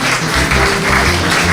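Applause from an audience at a doctoral schools ceremony at UCAD as elders are called forward, a brief burst of loud, continuous clapping mixed with a low hum and sustained tones underneath.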